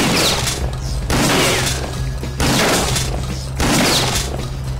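Gunfire in the video game Kingpin aimed at a generator: loud, broadband bursts repeat about every second over a steady low hum.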